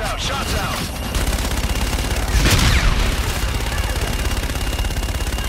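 Sustained automatic gunfire in Call of Duty: Infinite Warfare roars loud and close, a dense continuous rattle of shots with a brief heavier blast midway, as voices call out over the combat.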